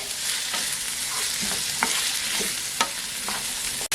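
Ginger paste, garlic and green chillies sauté in a hot pan with a steady broadband sizzle, broken by a few soft stirring scrapes and clicks. No one speaks.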